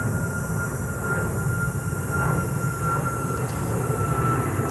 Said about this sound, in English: You guys will hear the planes going over because we are right by the international airport